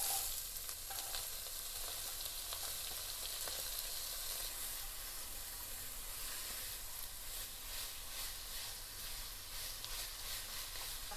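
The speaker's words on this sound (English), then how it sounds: "I'm going to add in my carrots and my onions." Carrots and onions fry in hot bacon grease, giving a steady, dense sizzle that holds loud and even throughout, with faint crackles and occasional soft stirring scrapes.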